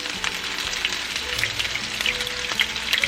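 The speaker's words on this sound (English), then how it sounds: "While our meat is frying" Steady, dense sizzling of beef frying in a hot pan, continuous crackle and spatter throughout, fairly close with no voices.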